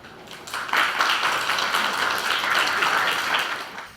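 An audience applauds at a highway construction training program graduation ceremony, a steady wash of many hands clapping that swells after a quiet start, holds for a few seconds, then begins to fade.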